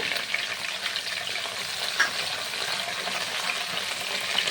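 Chopped coriander and mint leaves fry in hot oil over a medium gas flame, a steady close crackling sizzle with occasional pops and faint stirring, no voices.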